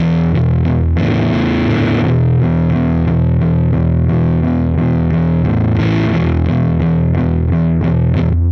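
An electric guitar played through a Quad Cortex on the middle pickup gives a thick, distorted blues tone, with loud sustained notes and a few sharper attacks ringing continuously, no talking.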